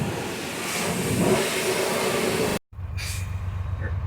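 A rescued old bus with adjusted injector racks, previously lacking full throttle, revs and accelerates on a road test. The engine drone is loud and close, cuts out abruptly, then resumes at a lower rumble.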